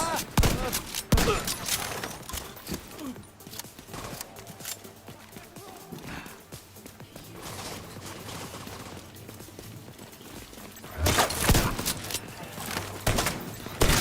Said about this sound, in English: These shotguns are so overpowered.